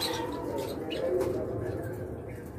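Pair of pure white albino lovebirds calling among other caged birds, with soft cooing and chirps up close under faint background noise.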